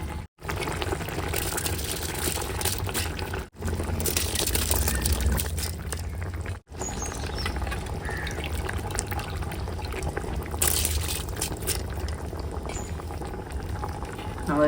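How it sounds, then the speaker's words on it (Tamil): Rice goes into a cooking pot of boiling water with vegetables, and a steady, loud bubbling and rushing boil runs throughout, broken by a few sharp brief dropouts. "நான் அரிசி போட்டுக்கிறேன்"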